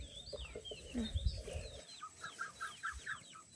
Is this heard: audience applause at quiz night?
no